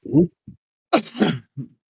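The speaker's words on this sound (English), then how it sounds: "Thought that stupid cough was gone finally, but not quite." A few short, rough coughs and throat-clearing bursts from a person nearby with a lingering cough, separated by brief pauses.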